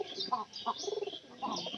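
Pigeons coo softly nearby in short, repeated throaty phrases, fairly quiet, with a few faint chirps between them.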